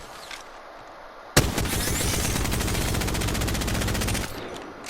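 Devotion light machine gun fitted with a sight fires a sustained automatic burst in Apex Legends, a loud rapid rattle of shots lasting about three seconds before stopping, with quieter game ambience on either side.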